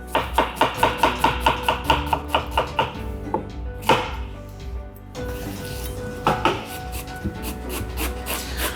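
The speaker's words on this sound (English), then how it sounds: "So I've got 1 onion here and I just want to finely dice it." A knife taps rapidly and rhythmically against a cutting board while one onion is finely diced, followed by scraping and a few more chops.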